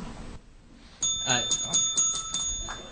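A debate timer bell rings in a quick series of bright, metallic strikes that ring on steadily, with a speaker's voice underneath.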